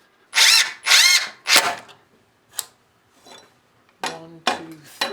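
A power drill drives screws into a basement or garage ceiling, with three loud whirring bursts, a short pause, then several shorter bursts. The sound is close and heard alone.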